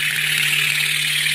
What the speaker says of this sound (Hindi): इस तरह से चल रहा है हमारा स्टीम इंजन